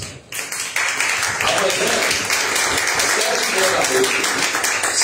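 A church congregation claps hands in praise, a sustained dense round of applause that rises quickly and holds steady, with a voice speaking briefly over it.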